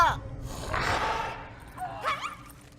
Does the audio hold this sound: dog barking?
yes